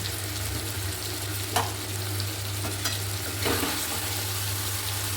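Chicken sautéing in a pan with green chillies and salt, an even sizzle with a few scraping stirs of a spatula and a constant low hum, no talking.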